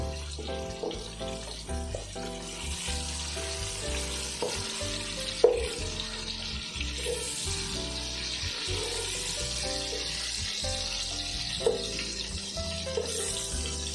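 Pumpkin and mixed vegetables frying lightly in oil for khichuri, a soft, steady sizzle with occasional stirring scrapes and faint clinks, fairly quiet and continuous.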